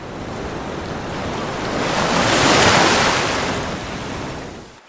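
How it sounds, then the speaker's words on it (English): Ocean waves splash and wash in a broad, rushing surge that swells to a peak midway and then fades, loud and unbroken without voices. "We splash down into the cool, deep ocean."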